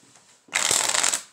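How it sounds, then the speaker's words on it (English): A deck of playing cards riffle-shuffled close up for a card trick: a quiet pause, then one dense burst of rapid fluttering card snaps lasting under a second, with no talking. "give the deck a shuffle"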